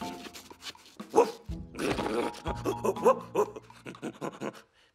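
A voice imitates a dog barking in a cartoon, giving a few short gruff woofs and grunts amid a busy animated scene with other voices and scraping noises.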